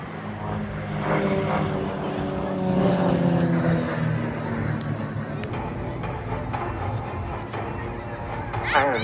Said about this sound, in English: And as three of the aircraft exit, it's time to watch the first session of solo aerobatics from the extra EA330 LX.